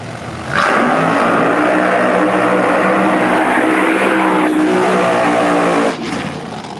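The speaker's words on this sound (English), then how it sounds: "Bubba Green in the green machine, far lane, bam, bam." A Pro Mod drag race car launches at the track with a loud, sustained engine roar that rises abruptly after half a second, holds at full power for about five seconds, then drops away.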